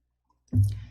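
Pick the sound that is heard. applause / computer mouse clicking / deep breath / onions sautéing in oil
computer mouse clicking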